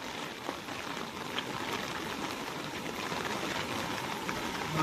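Flood water after heavy rain rushing along a village road toward the river behind a farm field, a steady broadband wash of flowing water that is continuous and fairly close.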